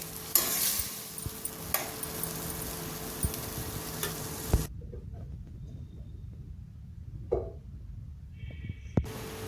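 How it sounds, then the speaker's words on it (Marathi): Tomato puree sizzles in butter and oil in a pan for penne red sauce pasta, a loud crackling fry at first that settles into a quieter simmer with occasional clinks and scrapes of stirring. "हा टोमॅटोची प्युरी करून घेतलेली ही प्युरी आपण त्याच्यात टाकून देऊ."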